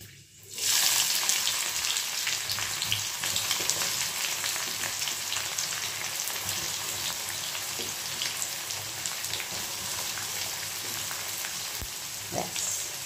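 Spices and chopped onion frying in hot oil for a Bengali mutton dish, a steady dense sizzle and crackle that starts abruptly and holds loud and close throughout, with a few faint stirring clinks and no talk.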